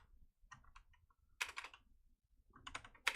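Quick bursts of clicking keystrokes on a computer keyboard, close and fairly soft, arriving in short uneven clusters with brief pauses between them.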